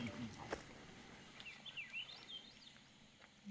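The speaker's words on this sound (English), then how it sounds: "You can hear the birds that come out" Bird chirps and warbling calls at dusk after a big storm rise and fall at moderate distance over a quiet outdoor background, with a few soft low thumps.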